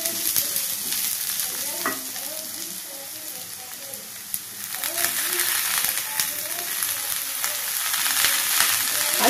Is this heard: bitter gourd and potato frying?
yes